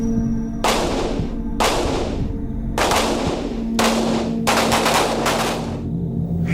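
Firearms discharge at a police college range, a series of loud, close bursts of shots with roughly one-second gaps, some clustered in quick succession.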